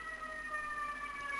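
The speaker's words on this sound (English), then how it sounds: "You hear the sirens? I can." Emergency vehicle sirens hold a steady, high wailing tone at moderate distance, sounding continuously and alone with no talk.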